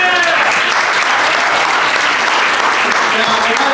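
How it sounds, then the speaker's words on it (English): Sustained applause fills a political rally crowd in Westchester at a manor house in Hastings-on-Hudson, a steady loud clatter of clapping hands with no break throughout. "Big round of applause for Chairman Doug Hudson"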